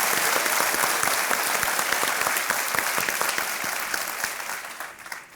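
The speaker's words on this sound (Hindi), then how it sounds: "एक बार फिर तालियां बज जाएं इनके लिए" Dense, steady applause from a studio audience on a televised quiz show, loud and sustained throughout before tapering off slightly at the end, with no talking over it.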